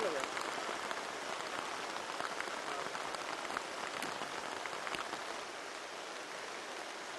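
Heavy monsoon rain pours down in Ratnagiri, a dense, continuous hiss of drops striking surfaces close by, steady throughout and easing only slightly toward the end.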